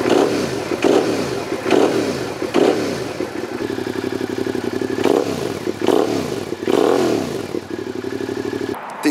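A Suzuki SV650 motorcycle's twin-cylinder engine rumbles loudly up close, its stock exhaust pulsing with repeated revs that rise and fall.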